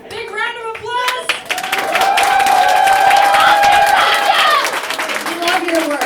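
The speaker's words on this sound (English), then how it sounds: "big round of applause!" A crowd at a live music show in a Pittsburgh venue bursts into loud clapping and cheering with whoops, building after a voice speaks and holding steady, with shouts rising above the applause.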